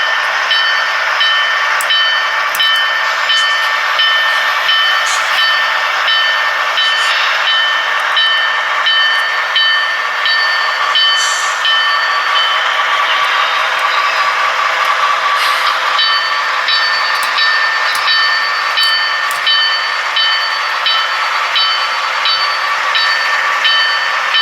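A Broadway Limited Baldwin D&H RF-16 Shark model locomotive's sound system plays a steady, continuous hiss and rumble. Thin whistle-like tones and occasional metallic squeals come and go as it runs into the yard, with no talking.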